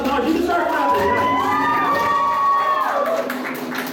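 Audience at an anime convention game show clapping and cheering, a dense continuous wave of applause with whoops and raised voices holding steady for several seconds before easing slightly at the end.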